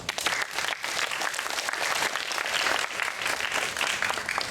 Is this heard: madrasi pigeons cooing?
no